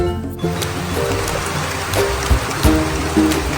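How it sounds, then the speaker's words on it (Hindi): Steady rain falls across an open courtyard, a dense wet patter with a few louder drips and splashes close by, continuous and with no one talking. "मसाला पिसते पिसते बारिश शुरू हो गई है और अब काम रोकना पड़ रहा है।"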